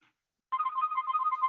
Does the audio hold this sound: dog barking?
no